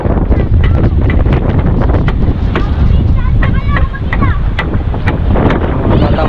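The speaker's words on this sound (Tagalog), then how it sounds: "Talagang lakas ng hangin na ito." Strong habagat monsoon wind buffets the microphone with a loud, constant rumble, while faint chirps and scattered clicks come through underneath.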